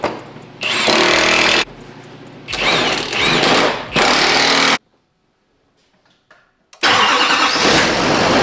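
A Duramax diesel pickup engine cranks and turns over in loud repeated bursts, stops for a couple of seconds of silence, then roars back to life.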